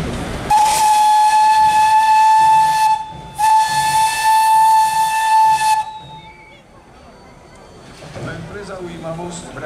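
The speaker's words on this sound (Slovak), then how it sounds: "Chlapci, zapískame nám." An old steam locomotive from the Austro-Hungarian era sounds its whistle at a turntable parade: two loud, long, steady blasts, the first about two and a half seconds and the second longer, followed by hissing steam and quieter background noise.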